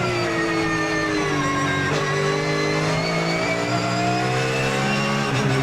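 Race car engine recorded onboard at the Nurburgring, a loud, steady roar that climbs and falls in pitch through gear changes, heard alone with no talk.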